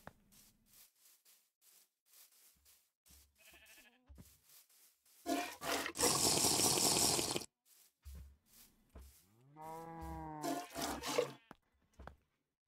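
Cows and other farm animals in a modded Minecraft game, letting out moos and grunts with one long, loud bleat-like call in the middle, scattered among clicks and other game sounds, with no talking.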